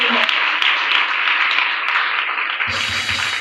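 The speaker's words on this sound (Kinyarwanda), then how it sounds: "Ndagira ngo wongere dukomere Imana amashyi menshi." A church congregation applauds God during a worship service, a dense, continuous wash of many hands clapping at steady loudness, fairly near, with a brief voice at the very start and an abrupt change near the end.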